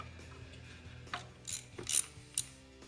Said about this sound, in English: All right, last bolt's tightened on.